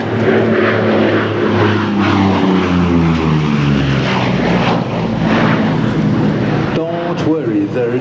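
A P-38 Lightning propeller fighter roars loudly overhead at an air show, its engine note sliding downward as it passes, with a voice talking over the steady drone.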